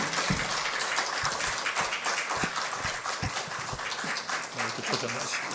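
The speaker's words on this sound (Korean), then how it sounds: "여러분 박수로 맞이해 주시길 바랍니다" A church congregation at a Friday prayer meeting claps to welcome a missionary who serves in Thailand, a dense, steady patter of many hands filling the room, with voices faintly mixed in.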